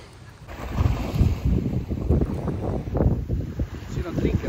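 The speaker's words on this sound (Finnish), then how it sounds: "tämä tuuli on nyt ollut molempina päivinä vähän semmonen" Strong stormy wind at a Maldives resort buffets the microphone in continuous low, rumbling gusts, with muffled voices faintly underneath.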